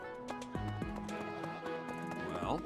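Horse hooves clip-clopping with a whinny in the video game Fire Emblem Three Houses, game sounds and music running steadily under a voice talking.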